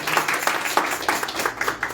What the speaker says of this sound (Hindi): आइए उसके जलाल के लिए जोरदार तालियां बजाइएगा